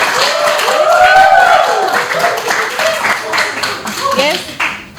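Audience clapping and applause at a live radio talk show in Jayapura, a steady burst of hand claps filling the room, with a voice speaking over it.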